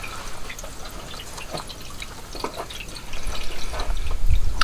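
Water, more water than fuel, drains and drips out of the fuel tank of a 1995 Dodge Ram 2500 pickup during a tank replacement, a steady trickle of splashes that grows louder and heavier toward the end.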